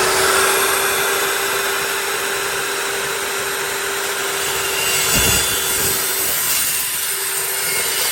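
DeWalt DW872 multi cutter chop saw running and cutting a small piece of stainless steel, a loud steady whine with a constant high tone and a brief surge partway through, no talk.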